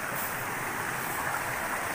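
River water flows steadily along a natural, undeveloped stream leading toward the Watu Krapyak waterfall, producing a constant broadband rush with no breaks and no talk.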